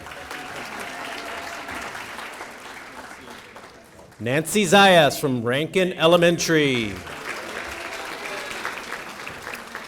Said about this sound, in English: Let's give another round of applause to all of our employees